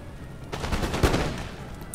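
A musket volley rings out in Empire: Total War, a burst of overlapping shots cracking together into one loud rolling report that fades into battlefield noise.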